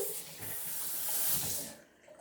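Hot tap water runs and splashes during a puppy's bath, a steady close hiss that breaks off near the end with a brief quieter patch.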